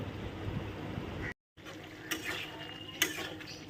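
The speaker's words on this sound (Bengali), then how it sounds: "আর এদিকে দেখো ভাতও ফুটছে" Rice boils in a pot on the stove with a soft, steady bubbling and hiss, broken by one short dropout and a few light clinks.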